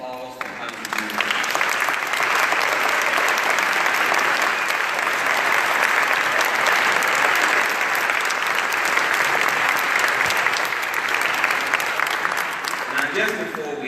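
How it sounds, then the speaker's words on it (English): Sustained audience applause for mayoral candidates at a community meeting fills the room steadily for well over ten seconds, dense and even throughout, with a few voices underneath. "we want to give them now applause for how they do"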